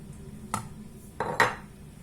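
A panini press lid is lowered and shut on sandwiches brushed with a little oil, giving two or three short metallic clunks with a louder final knock, alone and close up.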